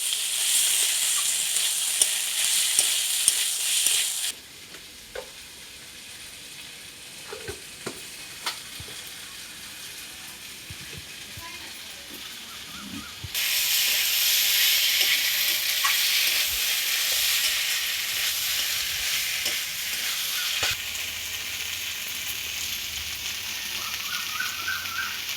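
Figs being sautéed with spices in a pan for a curry, an intermittent sizzle that drops away for several seconds, then returns loud and steady, with scattered scraping and clinks.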